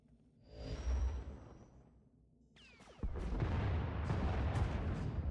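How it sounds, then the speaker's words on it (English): Turbolasers and missiles fire in a Star Wars space battle video game: a swelling rumble fades, then a whooshing streak erupts into a dense, sustained barrage of booming blasts. "Enemy is firing. Turbo lasers, missiles, and what looks like transport pods."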